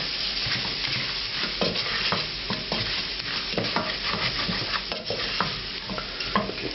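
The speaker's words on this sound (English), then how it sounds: "I'm going to stir this around for a minute. Just make sure it's well mixed." Lamb bhuna curry with chopped ginger being stirred in a hot pan, a steady close sizzle of frying with repeated scraping clicks of the spoon across the metal throughout.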